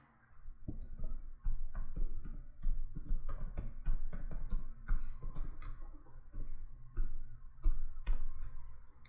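Someone types a MongoDB command on a computer keyboard, with irregular bursts of crisp, close key clicks separated by short pauses.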